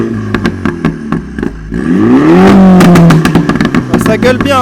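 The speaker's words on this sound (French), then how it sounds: "Alors là c'est la ligne Remus mais les pop d'origine." Mini John Cooper Works with a Remus exhaust line and stock pop mapping: sharp crackling pops and bangs, then a loud rising rev that swoops up and falls back, followed by more rapid pops, close and dominant.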